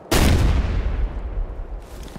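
A frag grenade blast in Ghost Recon Future Soldier on Xbox 360, one loud close boom that rumbles on under a burst of gunfire and ends in a sharp crack.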